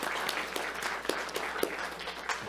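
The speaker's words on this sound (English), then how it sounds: "normally we don't encourage clapping in the chambers when we're dealing with controversial issues" An audience in county council chambers applauds veterans with steady, dense clapping that holds at an even level throughout, with scattered sharper claps standing out.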